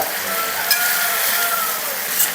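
Pumpkin and cowpea (karamani) curry fries and sizzles in a pan while it is stirred. A soft, steady hiss carries light scrapes of the spoon, and no voices are heard.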